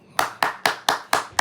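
A single person claps hands six times in a slow, even rhythm, each clap sharp and close with a short ringing tail.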